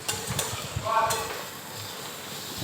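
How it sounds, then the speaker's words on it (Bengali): Cabbage, onion, tomato and carrot fry together in a pan for chow mein, a steady sizzle broken by a few spatula scrapes and stirring clatters near the start. "এই যে বাঁধাকপি পেঁয়াজ টমেটো গাজর সব কিছু একসঙ্গে ভাজছি"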